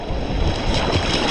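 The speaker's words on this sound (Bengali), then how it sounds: "ঢেউ দেখো ঢেউ" Sea waves break on the beach at Digha, a loud continuous wash of surf and churning water close by, with some wind noise and no talk.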